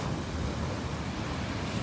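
Sea waves roll in on a churny shore under steady wind. The wash is broad and continuous, with no distinct breaks, and no one speaks.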